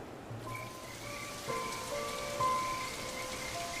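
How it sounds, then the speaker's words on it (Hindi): Rain falls steadily in the Serengeti wilderness, a soft continuous patter that holds at an even, moderate level with faint tonal hums drifting beneath it and no voices. "इतनी बारिश को भी आज ही आना था।"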